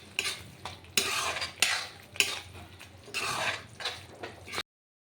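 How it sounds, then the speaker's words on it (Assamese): Spices frying in a pan for an Assamese potato and pointed gourd curry, with close stirring and scraping of a utensil against the pan in repeated bursts over a soft steady sizzle. "এতিয়া মছলাখিনি ভালকৈ মানে ফ্ৰাই হ'ব দিম।"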